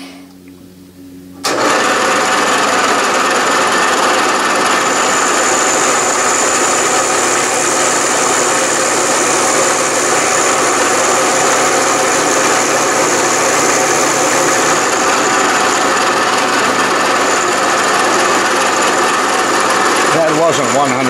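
A machine tool cuts across a piece of steel in a test of machinability, a steady loud grinding whir starting abruptly after a quiet moment and running evenly to the end.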